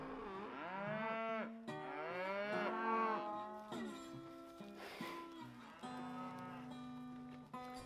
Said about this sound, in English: the ranching tradition continues, including feeding and herding the cattle